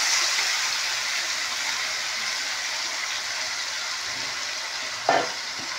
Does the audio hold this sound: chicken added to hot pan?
yes